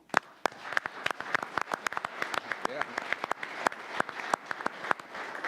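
Scattered, uneven hand claps from an audience at a city commission meeting, individual sharp claps spaced irregularly over a low murmur of voices in the room.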